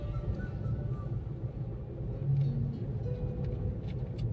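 A car descends the winding ghat road from Sinhgad fort near Pune, its engine and tyres making a steady low rumble from inside the cabin that swells slightly partway through, with no speech.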